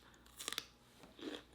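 Crunchy bites and chewing on homemade Asian shrimp tacos, a quick cluster of crisp crunches followed by a softer second chew, close and quiet with no talk.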